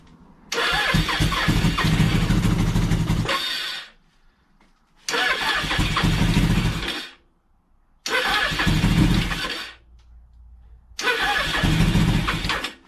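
A 1983 Suzuki GS 1100E motorcycle engine, sitting unused for a year, cranks and catches in four separate loud, close bursts of several seconds each, with short silences between attempts.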